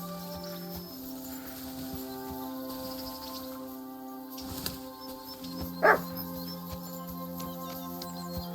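A single short dog bark rings out once in Kingdom Come: Deliverance 2, fairly faint, set against a sustained droning ambient score.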